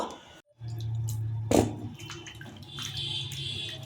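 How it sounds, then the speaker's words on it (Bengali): Cut papaya pieces being rinsed in water in a home kitchen, a steady close splashing and running-water wash with a brief louder slosh partway through. "এবার আমি ভালো করে জলে ধুয়ে নেব"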